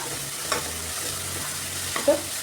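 Onion, green chili, curry leaves and ginger are sautéed in a pan, with a soft steady sizzle broken by a few brief stirring scrapes and clinks, close by with no talking.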